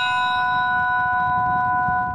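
A church bell in a village, donated by navy personnel and taken from a decommissioned Bulgarian minesweeper, rings with a sustained metallic tone that hums steadily and loudly throughout, with no voices.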